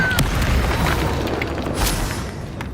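A Confringo fire spell blasts in the Hogwarts Legacy video game, a dense, rumbling explosion with a few sharp pops that roars loudly and evenly for a couple of seconds.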